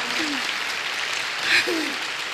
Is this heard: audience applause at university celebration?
yes